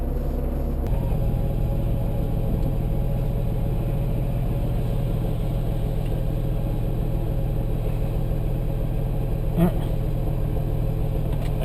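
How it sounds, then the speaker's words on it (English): A vehicle engine idles and rumbles steadily close by, with a low continuous drone throughout and a short sharp sound near the end, as a FedEx delivery truck is on a residential street. "Again, it's the FedEx truck."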